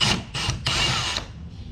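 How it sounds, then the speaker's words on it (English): A power drill with a screw extractor bit backs out a worn, damaged screw, giving several loud whirring bursts split by short pauses, then a steadier grinding run, all close up with no talking. "So we'll put this now in my drill, and now we can put it inside that little hole, put a little bit of pressure on, and just back it off"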